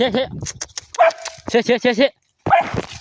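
Dog barking in short repeated bursts while fighting a cobra, the barks loud and close with brief yelps, broken by a short silence before another burst.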